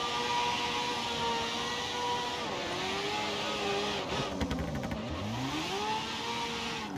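A tuned car's engine in a racing video game, a steady droning tone that shifts pitch as it revs up and down, with a brief burst of rougher rasp midway and no talk.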